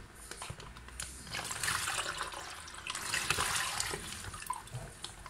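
A large popcorn-style bowl fills with running tap water, a steady close splashing rush that swells and continues for several seconds.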